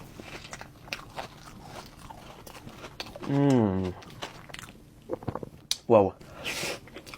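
Someone bites into a crunchy ice cream biscuit, producing a few sharp, close crunches and chewing scrapes broken up by an excited exclamation and other vocal sounds.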